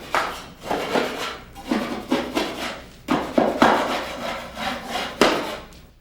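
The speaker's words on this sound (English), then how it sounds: "I use an old knife to scrape compound off the floors." An old knife scraping dried drywall compound off a floor, heard as a series of close, irregular rasping strokes with short pauses between them and no voices.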